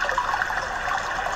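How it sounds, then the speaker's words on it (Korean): A babbling stream in the Australian outdoors, a steady, close rush of water with fine trickling detail running without a break and no voices. "지금 생생한 시냇물 소리가 들리시나요?"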